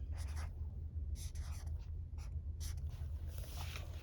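Handwriting a short word, with pencil or marker strokes scratching in several quick bursts over a steady low background hum, close and fairly quiet, no talking.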